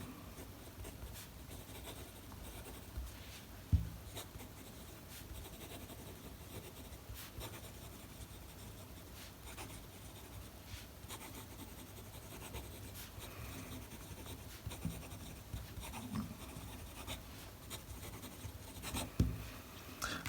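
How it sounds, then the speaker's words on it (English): Click Torpedo fountain pen with a scratchy nib, inked with Pilot Black, dragging across paper in a quiet, continuous run of faint rasping strokes with a couple of soft taps. "You can hear a lot of noise when you write on the paper. A little bit scratchy nib"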